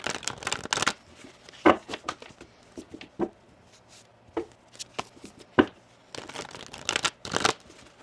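Tarot cards are shuffled and pulled in bursts of crisp riffling and snapping, several clustered flurries separated by short quiet gaps, close and alone.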